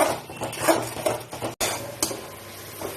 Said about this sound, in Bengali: সবকিছু দিয়ে খুব সুন্দরভাবে কষে নিচ্ছি।